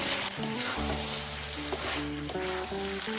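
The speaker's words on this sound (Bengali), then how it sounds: "সব মশলা দিয়ে আবারও 3 থেকে 4 মিনিট আমি চিকেনটা কষিয়ে নেব।" Chicken sizzles with ground spices while being stir-fried into a kosha, a close, crackling sizzle under steady stirring with occasional utensil clinks and tonal ringing in the background.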